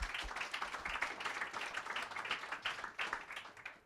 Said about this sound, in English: can we give the Remu team another round of applause